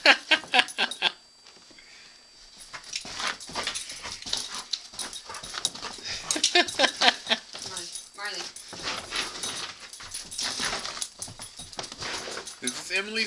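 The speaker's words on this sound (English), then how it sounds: "Emily's dog, Marlee, running after a light." A dog chasing a flashlight beam whimpers and yips excitedly in short bursts, with scrabbling movement and a person talking over it throughout.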